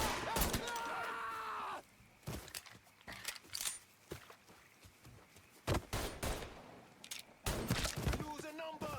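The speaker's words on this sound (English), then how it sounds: "Shooting that fool." Gunfight in Mafia 3 with scattered sharp gunshots and impacts, some loud and near, others fainter, spread irregularly between shouting voices.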